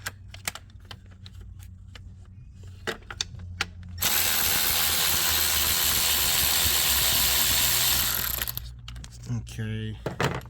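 A ratchet clicks steadily as it loosens a 10mm bolt on a 2014 BMW 535d diesel F10/F11 engine, with short bursts of clicking at the start and end around a dense, continuous run of rapid clicks in the middle.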